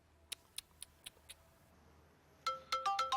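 An unanswered phone ringtone sounds indoors as a short run of bright, rapid melodic beeps near the end, following a few soft, evenly spaced ticks.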